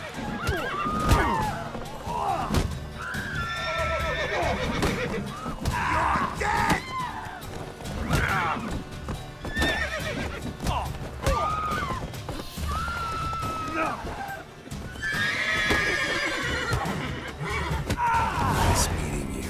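Horses in the video game The Witcher 3 neigh and whinny repeatedly while hooves clip-clop, loud and agitated, with shouting voices mixed in throughout.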